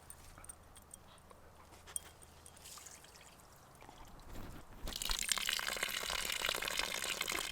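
Water drains from a second floor sink, a faint trickle at first that swells into a louder rushing gurgle partway through and keeps flowing steadily, with no voices.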